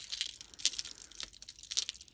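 A heavy glass bead necklace clinks as the beads knock together, making short, bright, close taps in quick irregular bursts with no talking.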